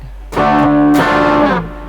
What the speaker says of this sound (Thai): มันเป็นแบบเหยียบเสียงแตก